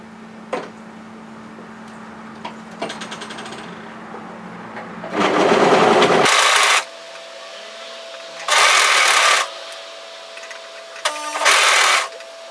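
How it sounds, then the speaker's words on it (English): Serger stitching sweatshirt seams together in three loud, steady whirring bursts separated by quieter pauses with light handling clicks. "go ahead and serge those together"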